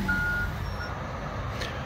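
A truck's reversing alarm beeps at a scrap metal recycling yard, a thin tone sounding over the low rumble of the idling engine.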